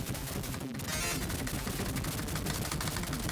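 Rapid arcade shooting in the coin-op game Silkworm, dense continuous bursts of gunfire with explosions layered in, loud and unbroken throughout the clip.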